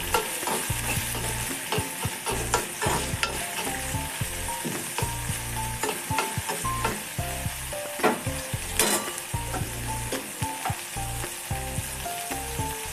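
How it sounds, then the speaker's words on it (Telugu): Green chillies and tomato fry in oil in a pan for oats upma. A steady sizzle runs under repeated scraping and stirring strokes, with occasional soft clicks and background music. "రెండు పచ్చిమిర్చి, టమాటో వేసాక అది మంచిగా ఫ్రై అయ్యేలా"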